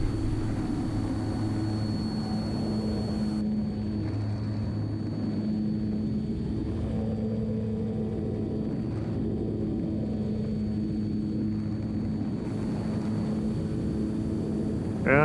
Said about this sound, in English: It's a park flyer, again, not an advanced aerobatic airplane